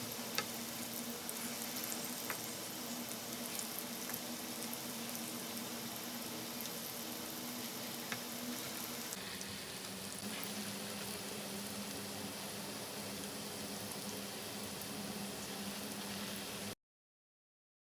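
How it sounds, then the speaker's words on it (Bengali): Kofta balls frying in cooking oil in a frying pan, a continuous close bubbling sizzle with occasional soft clicks of turning, steady throughout. "একটা ফ্রাই প্যানের মধ্যে রান্না করার তেল দিয়ে আমি ভেজে নিচ্ছি।"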